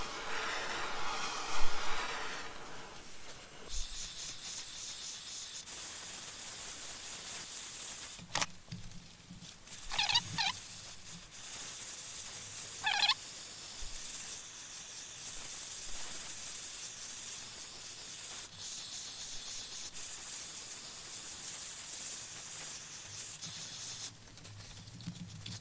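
A steamer hisses in short bursts and longer sprays while steaming the top of a 1962 Harmony guitar in a workshop, with quiet gaps and light handling noises between the steam blasts.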